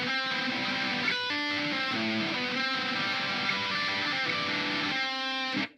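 Distorted electric guitar plays a riff, dense and loud with rapid chugging and shifting notes, ending abruptly; no talking.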